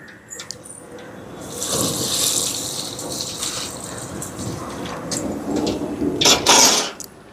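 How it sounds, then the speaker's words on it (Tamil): Water is poured into a cooking pot of dal and chayote for a milk curry, a steady gushing splash that swells after a quiet start, runs on continuously and ends with a brief louder spatter before stopping. "இப்போ தண்ணி சேர்ப்போம்."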